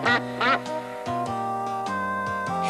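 Dixie Duck from the Hi-Ho! Cherry-O VCR game gives a couple of bright nasal quacks, followed by a cartoonish, melodic run of tones with sustained pitches over light background.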